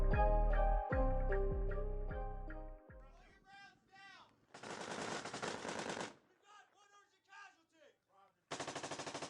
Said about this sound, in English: I can hear the screams of men and gunfire.